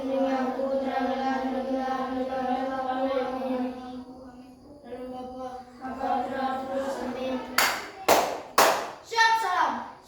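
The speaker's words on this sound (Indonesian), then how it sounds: "tepuk tangan dulu untuk kita semua" A fifth-grade class of elementary school children speaks together, then claps hands in unison several times, a few sharp, loud, rhythmic claps close by near the end.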